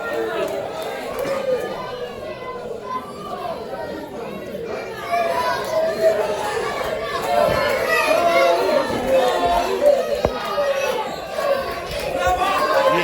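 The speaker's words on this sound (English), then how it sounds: "Hear the crowd chanting for Hippie Johnny." A crowd at an independent pro wrestling show murmurs and shouts in a steady, hall-filling din, with voices rising into a louder swell partway through, though no distinct rhythmic chant stands out.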